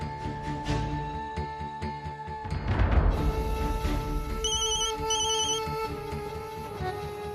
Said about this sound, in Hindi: रिंग तो यहाँ से आ रही है।